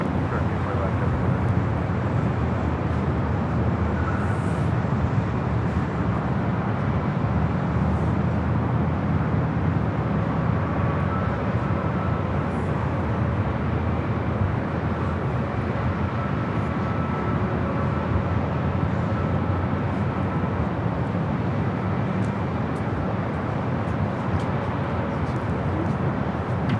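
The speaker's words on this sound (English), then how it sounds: "JetBlue flight heading to Fort Lauderdale" A JetBlue airliner at LAX, a broad sustained jet roar that holds loud and steady throughout, with voices talking over it.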